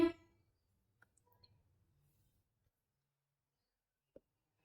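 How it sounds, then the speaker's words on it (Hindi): Computer mouse on a desk giving a few sparse, faint clicks spread over several seconds, with one brief louder knock at the start and a last isolated click near the end in otherwise quiet surroundings. "फर्स्ट वेबसाइट पे क्लिक करना है।"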